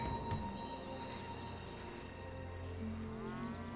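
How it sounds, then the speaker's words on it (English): Cows low in the strategy video game Civilization 5, sustained faint bovine moos against a soft hum of game ambience, with no speech. "Oh my god, look at all this, all the cows here."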